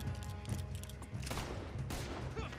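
Rapid bursts of gunfire from Red Dead Redemption 2 ring out in an in-game firefight, dense and loud, with heavier volleys near the middle and end over a busy game soundscape.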